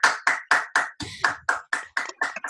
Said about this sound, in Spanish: Yo quiero invitarlos a que ustedes le den un aplauso al doctor Saturno